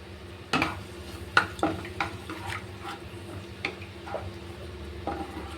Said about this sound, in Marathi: 2 चम्मच तेल टाकायचं. यामध्ये अद्रक लसूणची पेस्ट घालायची।